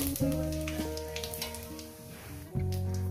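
Cumin and a dried red chilli sizzle in hot oil as a tempering for a vegetable posto, a continuous close crackle beneath steady tonal background music.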